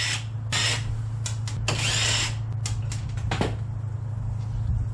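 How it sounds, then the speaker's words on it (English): Power tool spinning a 14mm socket to back out the stock bumper bolts on a Yamaha YXZ1000R, a loud continuous whir with several short bursts as the trigger is pulsed, close up and with no talking. "I'm just going to use a 14mm socket to remove the old stock bumper."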